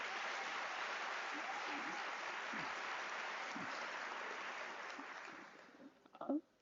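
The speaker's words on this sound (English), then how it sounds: "I want you to give a round of applause to our academics," An audience at a University of South Africa spring graduation ceremony claps in a dense, even wash that gradually tapers off, with a brief burst of voices as it ends.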